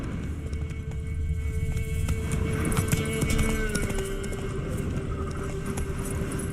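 Steady clip-clop of horse hooves from Roach in the video game The Witcher 3, a continuous trotting rhythm at moderate volume with faint jingling tack and ambient music underneath.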